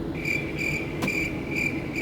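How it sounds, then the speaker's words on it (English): Crickets chirping in steady, evenly spaced pulsing trills, a clear repeated rhythm over a low background hum, with a brief click in the middle. "Crickets."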